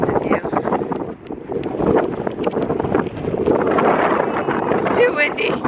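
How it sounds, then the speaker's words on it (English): Strong wind buffets the microphone at a cliff edge, loud rumbling gusts that swell and ease without pause, with muffled voices partly buried underneath. "It's too windy."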